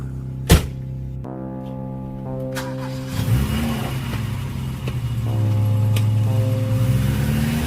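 A newly bought used car is heard with a sharp thunk near the start, then its engine hums and revs, its pitch stepping and sliding up and down as it drives off, fairly close and loud.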